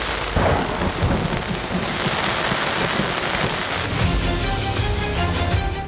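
Heavy rain pours in Karachi as a dense, steady roar, with low rumbling swells underneath and no voices.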